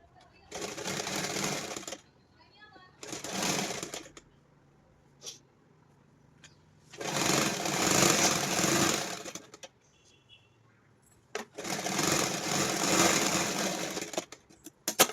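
A sewing machine stitches pant fabric in several bursts, two short runs, then two longer ones, each a loud, even mechanical whir close by, with someone speaking in the pauses.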